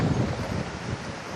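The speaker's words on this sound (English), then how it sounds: "It's windy." Strong wind of about 20 knots buffets the microphone at a repair yard for traditional wooden outrigger sailing canoes, a loud rough rumble with gusty swells and a hiss of rustling underneath, no voices.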